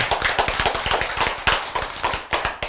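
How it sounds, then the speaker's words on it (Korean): A small audience at a Korean sermon or lecture claps hands together in a steady, dense patter of close, sharp, overlapping claps that lasts the whole moment, with no talking over it. "박수 치죠"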